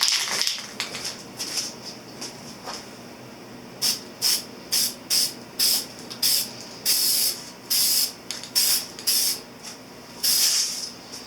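Spray paint going on as a third coat over a motorcycle front fender for a 1983 Honda CB1000 custom: a rapid series of short hissing bursts close by, about a dozen in quick rhythm after a few softer sprays.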